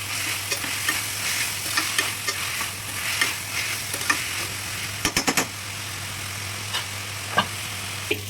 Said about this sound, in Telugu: అన్నీ వేసుకొని బాగా వేగాలి